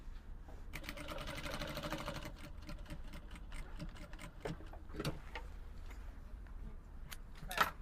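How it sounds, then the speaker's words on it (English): A sewing machine runs a seam with a half-inch allowance on a lapel shirt dress, giving a steady rapid stitching whir for about two seconds, then shorter bursts and scattered clicks of fabric handling. "You're sewing with ½ inch."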